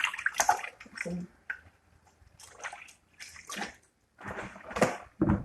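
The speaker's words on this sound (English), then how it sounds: "So let's wash this guy. Rinse him off here." Tap water rinses a raw chicken in a kitchen sink, coming as close, intermittent splashing and gushing bursts broken by short quiet gaps, moderately loud with no talk over it.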